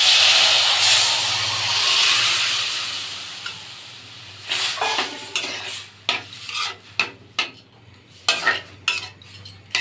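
Boiled chana dal tipped into a hot pan of frying spices and stirred, a steady close sizzle and hiss giving way to a run of sharp spoon scrapes and clatters against the pan.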